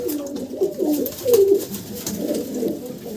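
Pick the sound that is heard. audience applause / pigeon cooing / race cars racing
pigeon cooing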